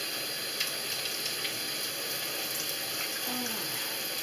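Tap water runs steadily into a kitchen sink to rinse freshly picked parsley, a continuous close hiss of flowing water with no talking.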